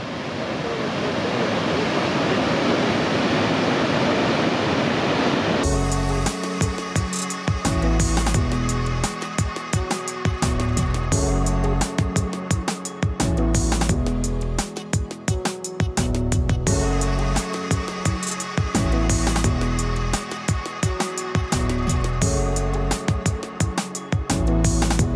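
Steady broadband roar of the Chyortova Melnitsa waterfall in a mountain gorge, loud and continuous for about five seconds before music takes over.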